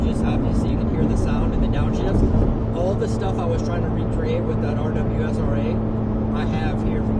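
A Corvette C8 sports car's engine drones steadily at close range, with pitch shifts suggesting downshifts, while people talk over it throughout.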